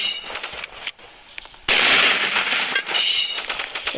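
Rapid crackling bursts of firecrackers popping in quick irregular succession, loud and close, with a brief lull before a dense volley erupts.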